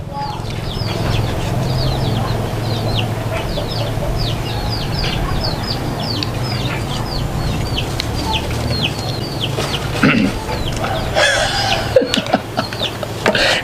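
Chickens cluck and squawk repeatedly in a busy, continuous chatter over a dense background, with a few louder, sharper calls near the end; no one speaks.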